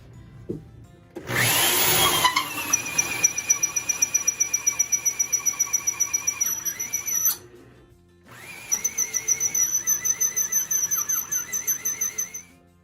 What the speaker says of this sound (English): I put the tenon cutter on my 1/2-inch drill